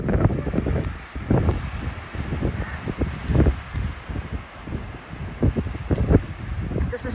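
Gusty wind buffets the microphone on an exposed cliff edge along a Virginia mountain trail, coming in uneven rumbling bursts with some rustling underneath, loud and close throughout.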